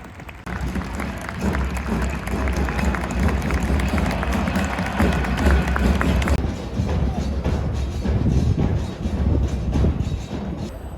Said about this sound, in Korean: 수원의 사나이 염기훈 선수에게 축하의 박수를 부탁드립니다